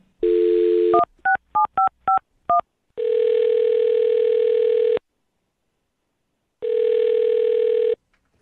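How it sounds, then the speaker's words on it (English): A telephone number is dialed: a short dial tone, then a quick run of six touch-tone beeps, followed by two long steady ringback tones with a silent gap between them. "I'm going to dial her phone number"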